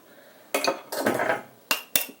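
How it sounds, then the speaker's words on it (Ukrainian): Two eggs cracked into a bowl of cheese and chopped greens for Ukrainian placinta filling, heard as a few sharp knocks and clinks on the bowl rim with brief wet spills between, fairly close with no talking. "Розбиваємо два яйця"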